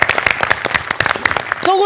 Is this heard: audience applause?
yes